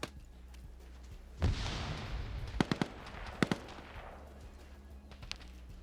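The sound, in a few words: gunfire in a video game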